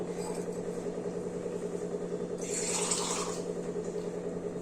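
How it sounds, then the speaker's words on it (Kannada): Water is poured into a pot of dal palak being cooked with turmeric and salt, a short splashing pour rising briefly over a steady kitchen hum. "ಉಪ್ಪು ಹಾಕಿದ್ಮೇಲೆ ಸ್ವಲ್ಪ ನೀರು ಹಾಕ್ಬಿಟ್ಟು"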